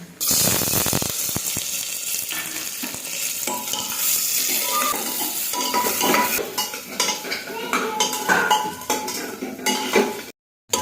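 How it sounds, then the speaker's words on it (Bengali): Chopped onions fry with cinnamon and cardamom in a pot for one-pot rice, making a dense, continuous sizzle mixed with stirring and the clatter of a utensil, close by, before cutting off abruptly at the end. "পেঁয়াজটা ভাজা হয়ে গেছে"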